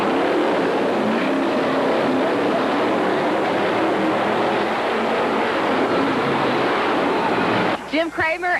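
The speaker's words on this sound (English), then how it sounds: "listen to how hard they both worked on the throttles as well" Bigfoot monster trucks racing on full throttle in a 1991 USHRA event in Oklahoma City, an unbroken heavy engine roar blended with arena noise, before a commentator's voice cuts in at the very end.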